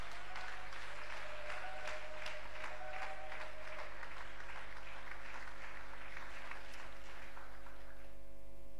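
Congregation applauding in church, a steady, even patter of many hands clapping at moderate distance for several seconds before fading out, over a low constant hum.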